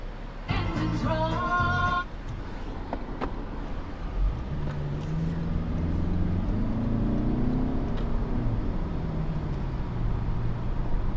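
A 2025 Toyota Camry XSE accelerating, heard from inside the cabin as the engine drone climbs steadily in pitch over a constant road hum, with no talk.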